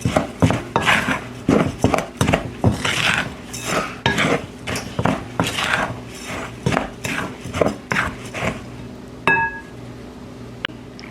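Cinnamon is stirred into an apple crisp topping in a bowl, producing a quick, rhythmic series of close scraping clinks of a utensil against the bowl, loud and regular, ending with a couple of isolated ringing taps.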